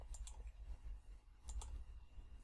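A computer mouse clicks repeatedly as a Photoshop polygonal lasso selection is traced point by point, with quiet, close, sharp clicks coming in small pairs against a low background hum.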